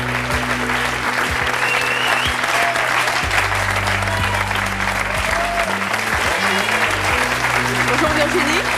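A French television talk show studio audience applauds, a dense steady wash of clapping that holds at full strength throughout, with music and a voice faintly underneath.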